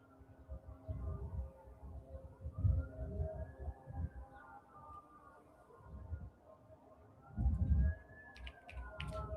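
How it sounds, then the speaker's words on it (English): Several sirens wail in the distance, slow rising and falling tones overlapping faintly beneath irregular thumping and clicking noise nearby. "Too much going on. Too many. Wow. Many sirens."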